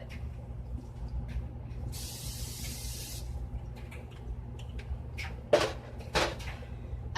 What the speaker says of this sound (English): So technically I really don't need to spray it too much